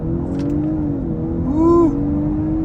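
A 2023 Audi A5 Sportback S-Line 45 in dynamic mode pulls away hard from a standstill, a steady engine drone under the cabin rising in pitch with a brief surge in loudness midway before settling.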